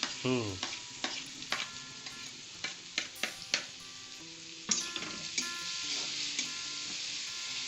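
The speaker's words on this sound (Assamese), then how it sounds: "তাৰপিছত আমি আদা ৰহুন পেষ্টটো দি দিলোঁ" Pork frying with ginger garlic paste in a pan, giving a continuous sizzle broken by repeated spoon scrapes and clinks against the metal, close and fairly quiet.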